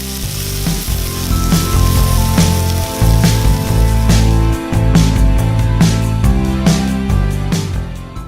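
Meatballs brown in a hot Dutch oven, a loud, steady sizzle and crackle with faint pops. Music with regular beats plays over the frying throughout.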